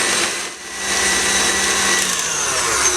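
An electric mixer beats butter and eggs for a marbled chocolate mud cake batter. A loud, steady motor whir runs continuously up close, with a brief dip in strength near the start.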